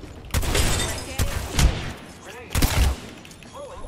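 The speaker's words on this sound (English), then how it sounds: "I am taking fire, friend." Video game gunfire aimed at the player: several loud bursts of shots in quick volleys, close and sharp, with a few quieter gaps between and faint game effects underneath.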